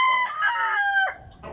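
A backyard rooster crows loud and close in one long drawn-out call, with a fainter crow from another bird at the tail end.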